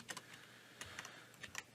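Keyboard shortcuts are typed on a computer keyboard: a handful of quick, light key clicks come in small clusters, close up and quiet, with no voices.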